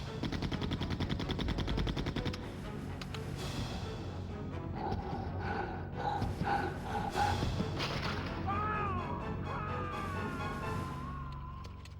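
Rapid gunfire in the Resident Evil 2 N64 port of the video game, a dense burst of loud shots in the opening seconds, followed by game music and effects, with a short voiced line.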